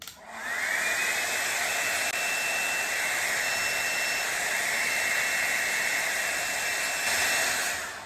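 Havells HC4085 hot air styler brush switched on, giving a steady loud whooshing blow of air with a faint high whine, running continuously from start to finish with no talking.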